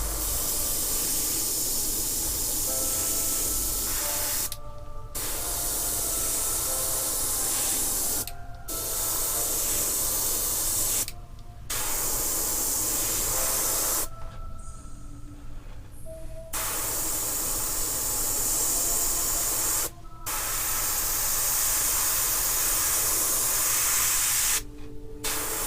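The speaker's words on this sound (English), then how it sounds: "Let's see how this sprays." Liquid chrome spray paint hisses from an aerosol can onto a 3D-printed dual Sith lightsaber in a series of long, loud bursts separated by short pauses.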